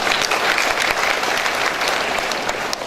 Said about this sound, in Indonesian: Tepuk tangan para kumlot buat kita ini.